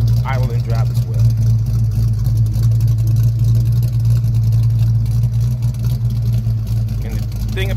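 A Fox-body Ford Mustang with headers, a ported 75mm throttle body, an 80mm MAF sensor and aftermarket exhaust idles steadily, a deep, even low rumble that holds throughout, with a person talking briefly near the start and end.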